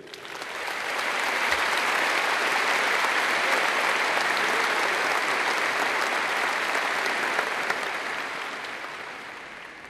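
A commencement audience at Mississippi State's 2018 graduation bursts into steady, dense applause for the incoming speaker, Chief Justice Frank Williams, swelling quickly and holding loud for the whole stretch before tapering slightly.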